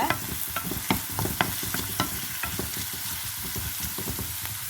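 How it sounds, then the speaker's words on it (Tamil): Onions sauté in a pan for samosa filling, giving a continuous loud sizzle punctuated by frequent clicking spatula strokes against the pan; no voices. "இது வந்து கொஞ்சமாக வதங்கினா போதும் ஆனால் நல்லா வதங்கணும்"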